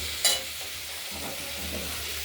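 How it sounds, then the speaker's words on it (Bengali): Grated beetroot and carrot frying in a pan over low heat, a continuous close sizzle with a short scraping stir near the start. "ভাজা আস্তে আস্তে জাল দিয়ে এবার ভাজা ভাজা করবো"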